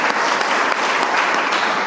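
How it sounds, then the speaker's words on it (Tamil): Audience clapping at a Christian church service honoring St. Antony in Tiruchengode, a dense, loud, steady burst of many hands close by that lasts the whole moment with no speech over it. "ஜோரா கைத்தட்டுங்க பார்ப்போம்."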